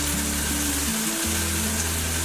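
Grape chutney sizzles in a pan over a low flame as chili powder goes in, a steady frying hiss with a low hum running underneath and a brief dip in the middle, with no voices.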